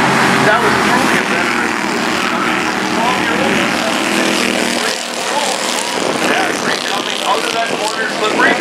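Bandolero race cars roar around an oval track through corners four, one and two, a loud continuous engine drone with passing swells, mixed with a commentator's voice talking over it throughout.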